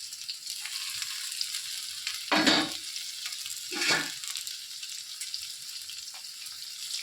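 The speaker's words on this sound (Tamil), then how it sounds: "இப்போ நல்லா வதக்கிக்கிறோம்" Steady sizzling of coriander and curry leaves frying in a pan for semiya upma, with two brief louder bursts of stirring or scraping partway through.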